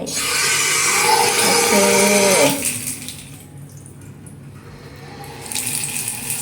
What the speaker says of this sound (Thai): น้ำร้อนน้ำเย็นใช้การได้